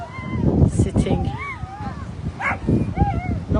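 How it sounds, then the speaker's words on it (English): Small dogs on a beach yip and whimper in short, high bursts near the microphone, heard under someone talking. "some little dogs down here on the beach"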